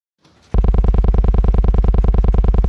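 A loud, steady 20 Hz buzzing drone of rapidly repeating blocky Minecraft note block notes, pulsing quickly and evenly without a break.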